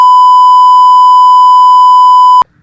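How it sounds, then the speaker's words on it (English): A loud, pure censor beep covering swearing in World of Tanks console commentary holds one steady tone for nearly two and a half seconds, then cuts off abruptly into near silence. "I'm sorry I had to beep that out."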